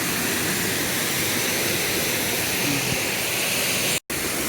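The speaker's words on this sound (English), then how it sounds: "we reach one of the first waterfalls, which is this one" A waterfall in Brecon Beacons National Park, Wales, gives off a loud, constant rushing roar close by, with a brief dropout near the end.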